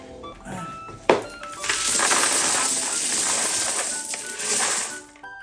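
Loose coins from piso net coin boxes pour and rattle together in a dense, close, hissing clatter after a single sharp clink, tapering off at the end.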